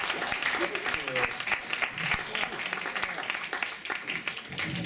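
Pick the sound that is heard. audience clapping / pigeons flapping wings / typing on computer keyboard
audience clapping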